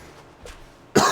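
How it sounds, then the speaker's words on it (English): A single harsh cough from someone still recovering from an illness, following a quiet stretch with a faint throat sound, loud and close at the end. "I can't break this bloody cough."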